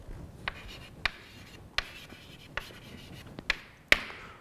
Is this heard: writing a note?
yes